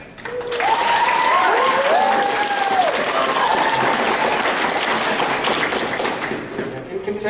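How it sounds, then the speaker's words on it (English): Convention crowd applauding a contestant at a fan Q&A panel, a loud sustained roar of clapping and cheering that swells quickly and fades slowly, with shrill whoops rising above the hands. "Lizzie and I are going to pick the winner based on applause"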